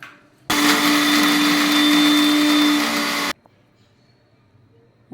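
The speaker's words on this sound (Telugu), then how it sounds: "తెల్లగడ్డలు, యాలక, లవంగాలు, చెక్క, అల్లం అండి. వీటన్నిటిని గ్రైండ్ చేసుకుందాం." A kitchen grinder blitzes garlic, cardamom, cloves, cinnamon and ginger for a chicken fry masala, a loud steady motor whine that starts abruptly, holds for about three seconds and cuts off into quiet.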